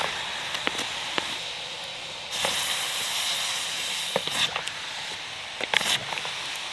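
Hot stones hiss as water boils in a 7vsWild bottle, with a continuous steamy hiss broken by sharp sizzling bursts and crackles at irregular intervals.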